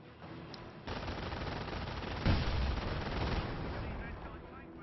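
Heavy machine gun fire in the World War II strategy game Company of Heroes, a dense, continuous rattle of loud bursts layered with other battle gunfire, swelling around the middle and holding steady to the end.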